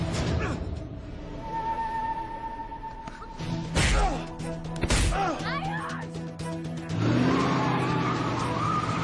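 A car pulls away with screeching, skidding tires amid engine noise and scattered impact sounds, with shouting voices mixed in throughout, building to a louder burst near the end.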